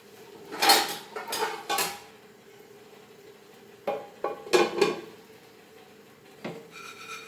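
A lid is set over a pan of Goan coconut pancakes, with a cluster of close metallic clatters and scrapes, a quiet pause, then a few more knocks and rattles, and no talking.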